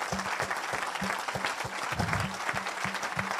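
A church congregation claps in a rhythmic, steady beat praising the Lord, with brief cheering mixed in, heard at moderate distance throughout.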